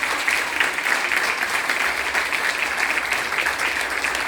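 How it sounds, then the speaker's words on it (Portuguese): A church congregation claps in sustained applause for an apostle being called up, a dense, even wash of many hands at close range, with no break for the whole stretch. "salva de palmas ao Senhor da"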